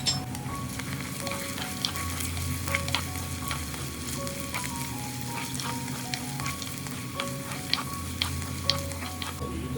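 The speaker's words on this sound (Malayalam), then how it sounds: "ഇഞ്ചി വെളുത്തുള്ളി ചോപ്പ് ചെയ്തതുകൂടെ ചേർത്ത് കൊടുക്കാം കൂടെ തന്നെ കുറച്ച് കറിവേപ്പിലയും രണ്ട് പച്ചമുളക് കൂടെ ചേർത്ത് നന്നായി ഒന്ന് വയറ്റിയെടുക്കാം" Ginger, garlic, curry leaves and green chillies sauté in oil in a pan for a Kerala-style mackerel curry, a steady close sizzle broken by light scraping stirs and soft clinks of the spoon against the pan.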